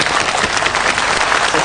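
A studio audience applauds loudly and steadily to welcome two guests onto a Yue opera interview program, a dense wash of clapping with no pauses, close and full throughout.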